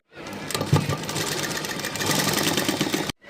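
A sewing machine runs steadily for about three seconds, stitching a gathered fold down the middle of a blouse sleeve, then stops abruptly.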